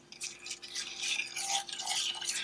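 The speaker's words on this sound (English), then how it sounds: "And all this time you're going to whisk this." A whisk scrapes and swishes steadily through a cinnamon mixture in a pan on the stove, a brisk, continuous, slightly rhythmic brushing close by with no talking.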